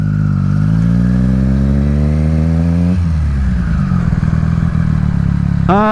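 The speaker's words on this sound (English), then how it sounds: "Now we're in first gear, braking and holding my clutch and coming to a stop." A motorcycle engine hums loud and close as the rider brakes and shifts gears, its pitch steadily falling as it slows, then choppy low revs and a sharp rising rev at the very end.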